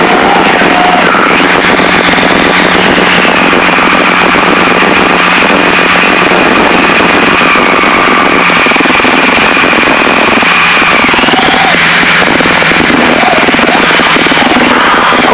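Piper Seneca twin-engine aircraft engine running in flight, a loud constant droning roar with a steady tonal hum, heard close from inside the cabin and filling the whole stretch without pause.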